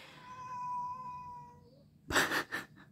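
A female cat meows plaintively at 5:30 in the morning, wanting water: a long drawn-out whine followed by two sharp, loud meows close to the microphone.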